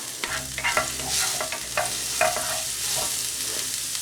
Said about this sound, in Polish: Makaron na patelni mieszamy dokładnie, aż cały pokryje się oliwą z czosnkiem.